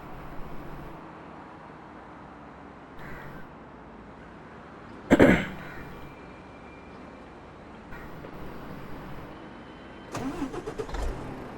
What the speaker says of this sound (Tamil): வண்டியோட சவுண்டு பார்த்தீங்களா?